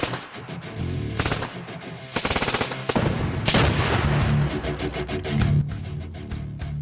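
AK-74 rifle firing at a tannerite-packed mannequin: loud bursts of automatic fire and sharp shots, with heavy, booming blasts that build and ring through the second half.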